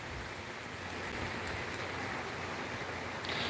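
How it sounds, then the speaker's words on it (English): Steady rain falling outdoors, a dense, even wash of drops hitting surfaces with no pauses, fairly faint and continuous throughout. "the rain is starting to diminish"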